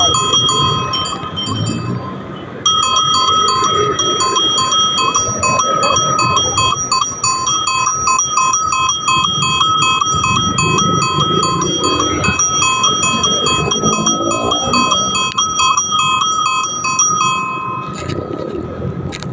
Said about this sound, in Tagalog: To make them stop, we need to use our bell horn.